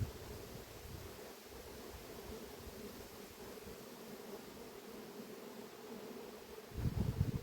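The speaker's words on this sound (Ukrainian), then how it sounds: "Бджоли пішли в обльот." A soft, steady buzzing drone of many honeybees making orientation flights around the hive fills the air, faint and constant, with a brief louder rustle near the end.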